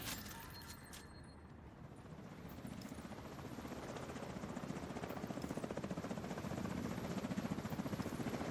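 Video game helicopter approaching, its rotor chop building from faint to loud with a rapid, steady pulsing beat over a low engine drone.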